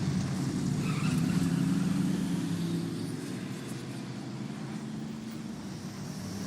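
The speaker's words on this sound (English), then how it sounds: "There's a car." A passing car in an outdoor setting, a steady broad engine and road roar that swells and then holds at a moderate level, with no voices over it.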